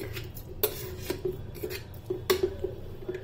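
Tomatoes go into browning meat in a pressure cooker, with sharp metal clinks of a utensil against the pot and soft scraping and rustling in between, close and moderately loud.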